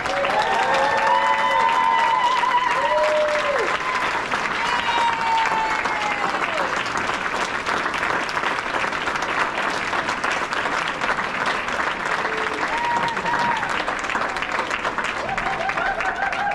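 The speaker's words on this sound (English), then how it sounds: "let's give our graduates another round of applause" A large crowd at a SPIRE high school graduation ceremony gives the graduates loud, sustained applause mixed with cheers and whoops, and voices ring out over the steady clapping.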